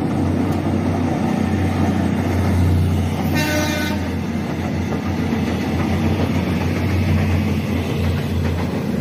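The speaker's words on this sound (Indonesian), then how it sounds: "feeder lagi lewat sih." A KCJB feeder train for the high-speed rail line passes beneath the Ciroyom flyover, its steady rumble loud and continuous throughout, with a brief horn toot partway through.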